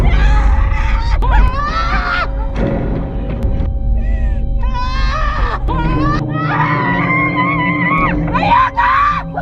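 A nun screams hysterically for help in the 2024 horror film Immaculate, with loud, wavering, high-pitched shrieks and wails in repeated bursts over a dense, continuous background.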